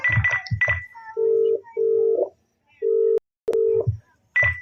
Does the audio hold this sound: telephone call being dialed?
yes